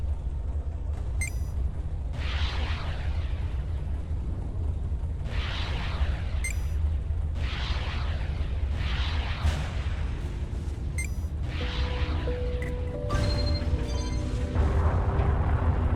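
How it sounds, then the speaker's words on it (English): Missile launches and heavy explosions from the space shooter game Everspace, a series of deep booms and rumbling blasts every couple of seconds over a constant low engine drone, with electronic beeps and rising tones toward the end. "Use missiles on the next targets."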